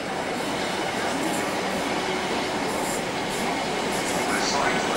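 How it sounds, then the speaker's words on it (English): A non-stopping train rumbles through Clapham Junction station with a steady, broad roar and faint rhythmic clatter, continuous and fairly loud throughout, with no talking. "approaching train is not scheduled to stop at this station."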